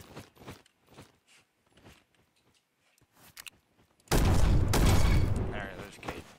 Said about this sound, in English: There are gunshots over there.